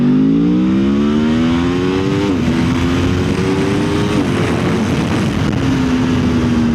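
Aprilia Tuono V4 motorcycle accelerating hard, its engine note climbing through two quick gear changes and pulling again, loud and close with steady wind noise and no talking.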